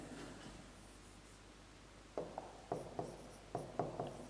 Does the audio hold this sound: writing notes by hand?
yes